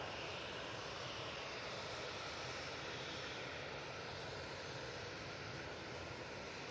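A Gulf Air Boeing 787-9 Dreamliner arriving at Manchester Airport makes a faint, steady broadband jet rumble that holds constant throughout, with no talking.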